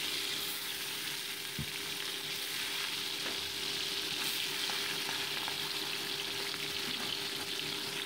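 Bata fish frying in hot mustard oil in a kadai, a steady close sizzle and crackle that holds evenly throughout with a single brief knock partway, no talking.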